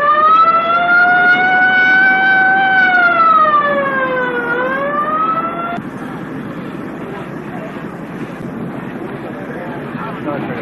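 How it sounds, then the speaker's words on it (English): A loud ambulance siren wails with a rising and falling pitch at a 1970 NHRA drag race, then fades out, leaving steady wind and crowd noise behind it. "put in the ambulance, now on the way to the hospital"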